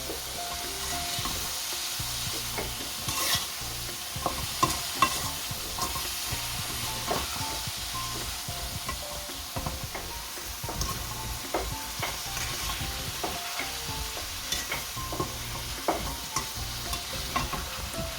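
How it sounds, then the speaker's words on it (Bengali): Dried jujube (boroi) pickle with sugar is stirred in a hot pan, giving a steady soft sizzle under repeated scraping, clicking strokes of the spoon throughout, with no talking. "মিক্স করবো এখন"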